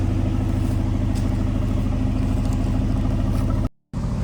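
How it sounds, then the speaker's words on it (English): An Aston Martin DB11 twin-turbo V8 on its regular exhaust runs at a steady idle, a deep even rumble close by, before a brief cut near the end. "This is the regular exhaust"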